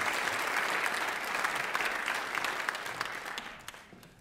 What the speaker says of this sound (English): Let's give him a round of applause and welcome him to the stage.